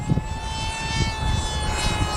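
A Versa Wing model airplane flying in high winds, its small engine giving a steady, fairly close buzzing drone with a constant whine, with gusty wind rumbling underneath throughout.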